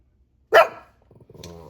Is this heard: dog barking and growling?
yes